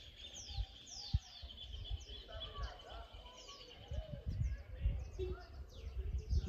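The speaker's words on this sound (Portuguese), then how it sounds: "E tem um passarinho me atacando aqui" Small bird chirping in quick, repeated high calls outdoors on a morning retreat, scattered through the clip over low background noise and faint voices.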